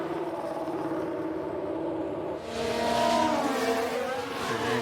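A Formula 1 race car in the F1 Manager 2022 racing game at the Japanese Grand Prix, its engine a steady whine that swells louder as the car passes, with the pitch rising and shifting.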